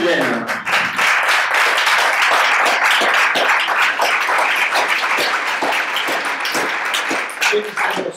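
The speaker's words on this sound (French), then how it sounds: "est-ce que tu as entendu les applaudissements pour toi?" Loud, sustained audience applause for Guylaine at a conference in Italy, a dense continuous roar of many hands clapping close by, with voices faintly mixed in.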